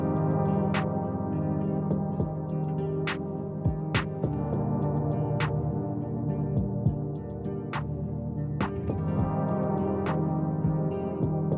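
Quiet guitar-based beat with sustained chords under a filtered kick, snare and crisp ticking hi-hat accents, all in a steady, moderate-tempo groove with no vocals.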